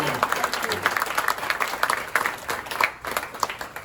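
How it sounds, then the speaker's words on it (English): An audience at an awards presentation gives a warm round of applause, steady crowd clapping with scattered louder claps and some voices mixed in throughout. "let's all give him a big round of applause for Camden Wright"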